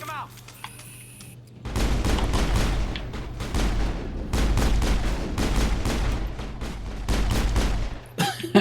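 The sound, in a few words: gunshots in the video game Mass Effect 3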